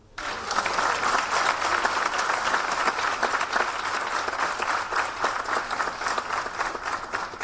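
Sustained applause from a large graduation convocation audience honouring the graduates' parents, dense steady clapping that holds at an even level throughout without a break.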